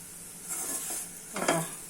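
Vegetable filling for bread pakoda sizzles and fries in a pan, with a hissing crackle that rises twice and a short stir, close and moderately loud with no talk.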